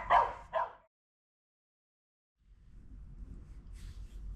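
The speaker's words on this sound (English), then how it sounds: "those dogs next door drive me fucking nuts" Two sharp barks from dogs next door come in quick succession. Then there is a long silence before a low, steady rumble fades in.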